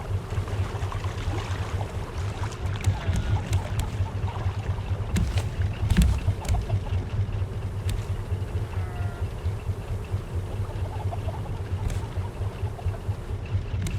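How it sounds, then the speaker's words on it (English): Boat engine running in the survival video game Raft, a steady low rumble with water and wind wash, continuous and fairly loud, with occasional knocks over it. "let me turn on the engine again"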